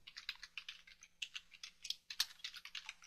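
Quiet, close typing on a computer keyboard, quick bursts of light clicking keystrokes with short pauses between groups and no voices.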